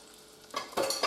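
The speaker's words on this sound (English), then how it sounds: "put the beef in" Seasoned beef dropped into hot oil for a slow cooker roast, bursting into sharp sizzling after a quiet moment, with a second louder surge of frying hiss close by.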